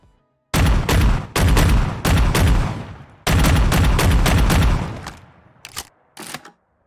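Striker (Street Sweeper) shotgun in Fallout 4 fired in a rapid string of loud blasts, several bursts in quick succession, then a pause and a few sharp mechanical clicks and clacks of the reload.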